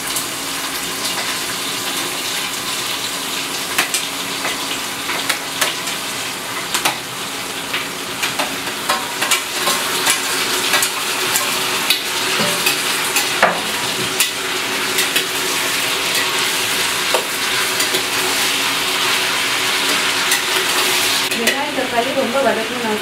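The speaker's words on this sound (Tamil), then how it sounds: "அடுத்து வெங்காயம், தக்காளி ரெண்டுமே போட போகிறோம்." Onion and tomato sauté together in a pan for mutton kulambu, giving a steady, close sizzle with scattered scraping and stirring clicks that holds throughout, slightly busier near the end.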